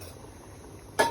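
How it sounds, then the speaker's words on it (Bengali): A lid set down on a cooking pot of rice on a stove, a single short clink of metal at the very end after a quiet stretch of low kitchen hum. "এখন ঢাকনাটা দিয়ে দিই"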